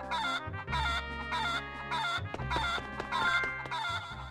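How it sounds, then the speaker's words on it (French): Chicken in the Four Swords Adventure video game clucking and crowing in repeated loud, rhythmic synthesized bursts over game music, with no talk. "J'espère que vous kiffez ce bruit de poule."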